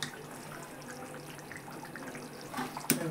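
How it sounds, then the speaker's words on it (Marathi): Hot water is poured into a simmering chana dal and mushroom curry, a short splashing gush rising near the end after a quiet, low background of kitchen noise. "गरम पाणी टाकलं ना"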